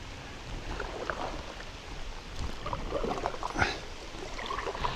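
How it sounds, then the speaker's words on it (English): Rain falls steadily on a creek around a kayak at Meadow Creek Park, a fine continuous patter with scattered nearby drips and small splashes, no voices. "here we are into June and it's still raining"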